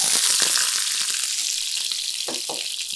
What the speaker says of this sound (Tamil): கிளறிக்கிட்டே இருந்தீங்கன்னா தான் கடுகு பொரியும் போது வெளியில் செதறாமல் இருக்காது, ஆனால் செதறது கம்மியாகும்